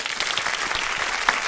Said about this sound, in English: we have to give you an official People Before Politics round of applause